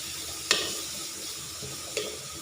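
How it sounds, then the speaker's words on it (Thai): Mushrooms stir-fry with aromatic herbs and coriander in a pan, a steady close sizzle with two sharp scraping clacks of a utensil against the pan, no voices. "ผัดใส่เครื่องหอม"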